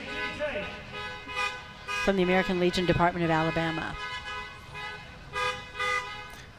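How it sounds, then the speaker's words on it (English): Car horns honk in bursts at a Veterans Day parade in Birmingham, Alabama, some long tooting blasts mixed with shorter ones, while someone talks over them nearby. "I guess American Legion honks horns."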